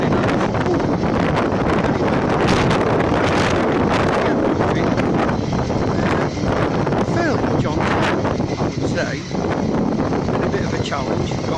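Strong, continuous wind roars and buffets on a motorcycle ride, a loud, steady blast that fills the whole clip with slight gusting variation.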